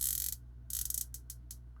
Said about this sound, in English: Bezel action is nice on it too.